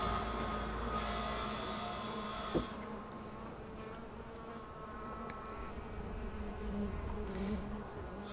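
Mandaçaia stingless bees buzz at the entrance of their hive, a steady close droning hum that softens partway through, with one brief knock heard.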